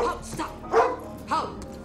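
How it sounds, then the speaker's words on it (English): A blind dog barks three times in short, sharp bursts close by, with brief pauses between the barks. "Who's he barking at now? He's still barking at me."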